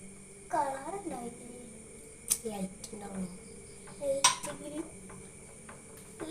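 A green clay mixture is stirred into a soap base in a container, with light clinks and scrapes of a utensil against the vessel coming in short bursts while a person talks throughout.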